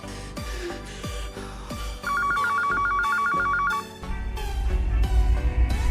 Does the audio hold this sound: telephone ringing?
yes